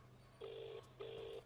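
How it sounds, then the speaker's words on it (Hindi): A telephone is dialed: two short, clean electronic tones sound one after the other, faint and evenly spaced over a low steady hum. "एक मिनट, मैं एक फोन कर लेता हूँ।"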